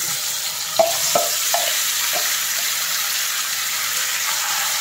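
Marinated country chicken dropped into hot oil with fried whole spices, a few clattering thumps of pieces landing and stirring over a steady close sizzle that continues evenly.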